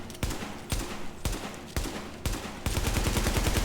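Automatic gunfire from a rifle in The Division, fired as rapid close bursts, four short volleys separated by brief gaps and then one sustained stream of fast, evenly spaced shots at the end.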